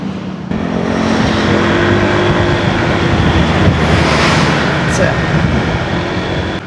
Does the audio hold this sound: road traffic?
yes